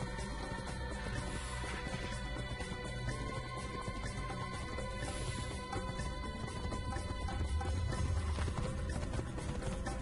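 Horse galloping in the Assassin's Creed video game, a rapid steady beat of hooves mixed into a dense bed of game music and ambience throughout.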